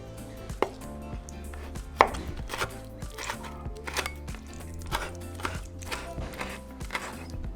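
A knife chops chipotle peppers on a cutting board in a home kitchen, with a run of distinct sharp blade strikes at an uneven rhythm, one hit standing out loud, under steady background noise.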